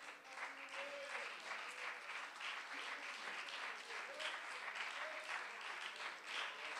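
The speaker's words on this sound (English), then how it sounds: "Clap your hands unto the Lord." A church congregation clapping their hands together in worship, a dense, steady wash of applause from many people filling the room, with faint voices underneath.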